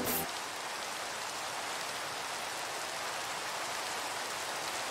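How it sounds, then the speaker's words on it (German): Rain falling in the video game Minecraft, a dense, even hiss of steady rainfall that holds constant throughout with no voices over it. "Auch noch Regen hier jetzt, oder?"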